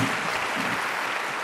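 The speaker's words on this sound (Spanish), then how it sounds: "Quiero que les den un fuerte aplauso a nuestros ponentes." An audience at a scientific symposium on metabolic syndrome gives a strong round of applause for the speakers, a continuous even patter of many hands heard alone throughout.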